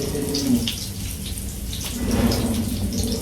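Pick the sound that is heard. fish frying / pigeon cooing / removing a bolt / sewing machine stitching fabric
fish frying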